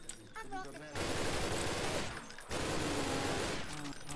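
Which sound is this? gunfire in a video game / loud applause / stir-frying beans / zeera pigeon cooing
gunfire in a video game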